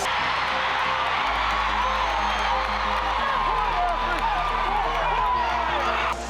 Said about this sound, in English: This crowd is starting to get into it now because they sense something's about to happen.